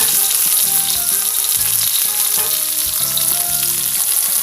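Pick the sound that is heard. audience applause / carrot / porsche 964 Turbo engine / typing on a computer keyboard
carrot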